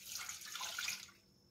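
Water pouring from a tap into a pot of meat for jellied meat, a close, faint gushing stream lasting about a second before trailing off.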